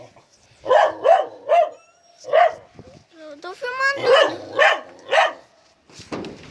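Several sharp dog barks in uneven bursts, close by, with a person speaking briefly in the middle and a faint whine.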